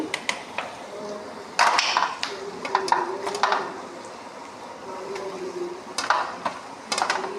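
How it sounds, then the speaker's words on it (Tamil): Mutton blood being stirred and tossed in a pan with salt, a steady soft sizzle under repeated scraping and clinking strokes of a spoon against the pan, close up. "இதை போட்டு நல்லா பெரட்டி விட்டுட்டு சிம்மில் வச்சிடலாம்"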